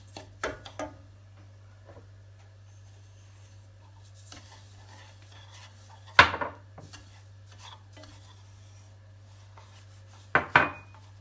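Semolina halva with sugar is stirred in a pot. Sparse scraping and clinking of a utensil against the pot come through, with a few sharper knocks and long quiet stretches over a low steady hum.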